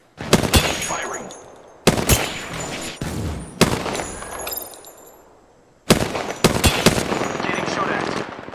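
Bursts of automatic gunfire in the Apex Legends battle royale game, several loud volleys separated by short pauses, with a near, sustained run of firing toward the end; a voice speaks briefly amid the shots.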